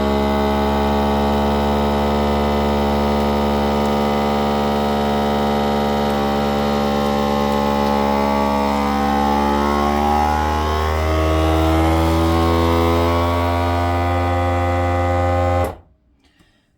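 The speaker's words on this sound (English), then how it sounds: "the reason I'm vacuum sealing them and not just putting them into like a Ziploc bag is because it does pull all the air out" A vacuum sealer pulls air out of food bags, its motor running as a loud, steady hum that shifts slightly in pitch as the pump labors, then cuts off abruptly near the end.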